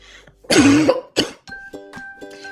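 A loud, close cough followed by a second shorter cough, then brief voiced throat sounds trailing off.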